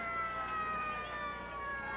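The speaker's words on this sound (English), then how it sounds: "Do you see those lights flashing and hear those sirens?" Emergency vehicle sirens leading a 1998 summer celebration parade in Streamwood, sounding as a distant, faint wailing tone that drifts steadily through the outdoor air.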